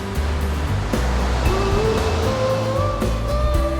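Ocean waves crash against rocks beneath the Ulee Lheu bridge on the Aceh shore, a continuous loud wash of surf with repeated surges and nearby motor traffic humming over the water.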